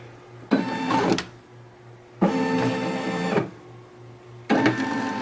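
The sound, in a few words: Brother SE 625 embroidery machine tracing the design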